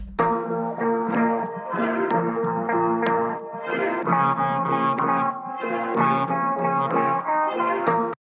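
A half-time slowed-down, dragging hip-hop beat music sample with smeared chords and a lazy, stretched pulse, continuous and fairly loud with no talking.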